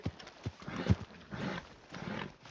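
A horse trotting in the video game Red Dead Redemption 2, with uneven hoof clip-clops and some rustling, close and moderately loud.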